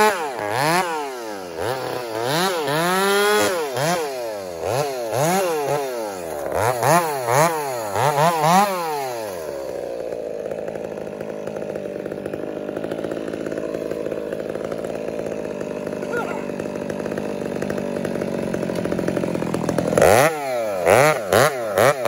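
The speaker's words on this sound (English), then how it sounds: "You just needed a stronger saw." A chainsaw bucks big felled trees, its engine revving in repeated rising and falling surges, then bogging into a long steady cut before revving up again at the end, loud and close with no voices.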